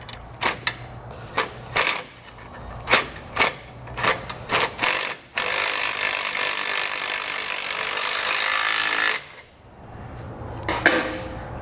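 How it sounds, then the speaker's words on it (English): A 3/4 inch socket and wrench tighten a base plate bolt on a 2018 Ford F-150, with quick ratcheting bursts followed by a long, steady grinding whir of the tool, close and loud, with no talking. "we're going to come back with a 3/4 inch socket and a 3/4 inch wrench."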